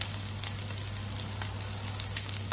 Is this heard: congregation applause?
no